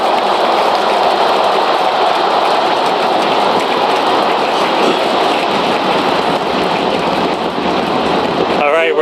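SpaceX Starship Flight 7 Super Heavy booster firing all 33 engines as it pitches downrange, a dense, steady roaring rumble that holds loud and unbroken throughout, with a brief crackle near the end.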